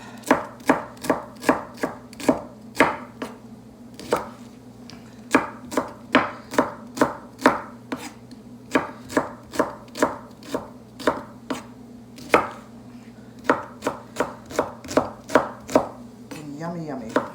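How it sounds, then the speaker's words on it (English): A knife slices cabbage thinly on a cutting board, crisp sharp chops falling in a steady brisk rhythm, close and clear with no talking. "slice them up real thin"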